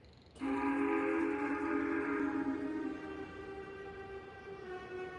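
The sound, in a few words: steam train whistle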